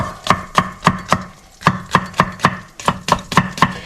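A knife chops hot pepper on a cutting board, about fourteen sharp, evenly spaced strikes close up, pausing briefly midway, with no talking.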